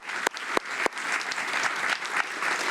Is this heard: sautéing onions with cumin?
no